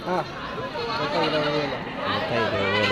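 Goats bleat repeatedly in wavering cries at a busy sheep and goat market in Kadiri, with loud voices of people talking and bargaining throughout.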